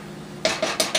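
Spoon scraping and tapping against a pan while smearing minced garlic around, four short clinking strokes close up after a quiet start, no talk.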